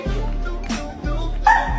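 A dog gives a few short, close barks and yips, with brief whimpering tones between them and a faint voice in the background.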